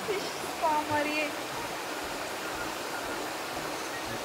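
A small waterfall in the Kurumbapatti area of the Yercaud foothills gives a steady, even rush of falling water, with a few faint bird chirps early on.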